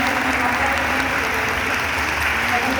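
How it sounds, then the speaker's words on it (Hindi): A church congregation in Raipur, Chhattisgarh claps loudly and steadily to welcome visiting pastors, a dense continuous applause filling the hall without pause. "तो हम सब बड़ी ताली बजा के उनका स्वागत करेंगे।"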